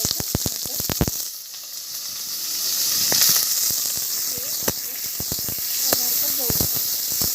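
Onions and curry leaves sizzle in a pan over medium heat for masale bhat, a steady bright hiss with sharp crackles and spoon taps, while a voice talks over it.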